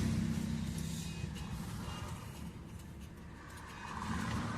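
Heavy road traffic rumble on a national highway heard from inside a 2011 Maruti Alto VX, with a truck approaching from behind; a steady low drone swells at the start and again near the end, fairly close and without talk.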